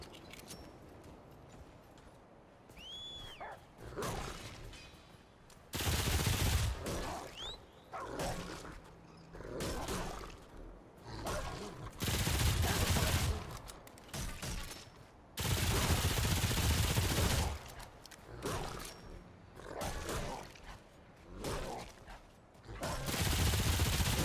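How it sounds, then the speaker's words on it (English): Gunfire in Remnant 2, repeated bursts of automatic shots in loud clusters separated by quieter gaps, close and harsh, with no talking. "shooting feels pretty good in this game"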